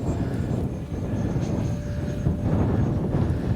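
Steady whine of a 50mm RC T-33 jet flying at about half throttle in strong wind, a moderate, even drone with buffeting wind noise over it.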